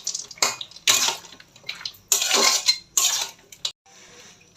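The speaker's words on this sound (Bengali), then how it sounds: "দেখো দিয়ে দিলাম বড়িটা, দিয়ে একটু নাড়াচাড়া করে নিচ্ছি" A spoon stirs a jackfruit seed vegetable curry with fried bori in a pan, making several close scraping and clattering strokes in short bursts, with brief quiet gaps between them.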